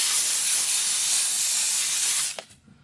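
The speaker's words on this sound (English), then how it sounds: "Let me spray that off." A continuous close hiss of a spray bottle of cleaner sprayed on a car interior for a couple of seconds, then it stops abruptly with a faint click.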